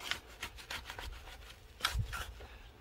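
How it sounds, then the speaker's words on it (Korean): A shovel pokes repeatedly into watered garden soil around a newly planted plant, making soft, close, irregular scraping and rubbing crunches. "삽으로 이렇게 쿡쿡 찔러주고요"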